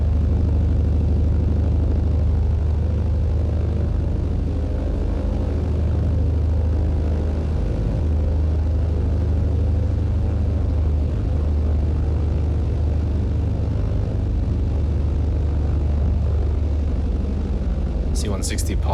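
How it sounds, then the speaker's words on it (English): Transall C-160 on approach in Microsoft Flight Simulator 2020, a constant deep propeller-engine drone with a heavy low rumble, steady and loud throughout with no break. "C-160 is on approach."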